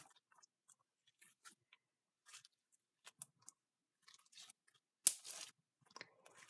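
Slime is folded and mixed with black glitter, making faint, sparse squelches and crackly clicks in short bursts, with one louder wet pop near the end and long quiet gaps between them.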